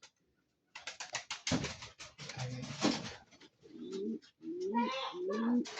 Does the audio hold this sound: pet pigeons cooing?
yes